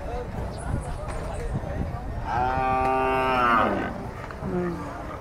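A cow moos loudly and close, one long drawn-out call at a busy livestock stockyard, with people talking throughout and general yard noise around it.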